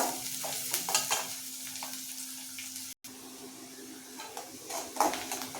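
Curry leaves sauté in a pan of hot oil for paruppu urundai kulambu, giving a steady close sizzle with light stirring scrapes and a brief break midway.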